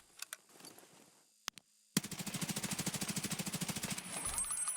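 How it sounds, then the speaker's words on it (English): SPEAR 6.8 rifle in a video game firing a long full-auto burst of rapid, evenly spaced loud shots after a few scattered clicks and handling sounds, then a brief trailing hum as the burst ends. "Let me grab that spear back and we'll full auto the spear."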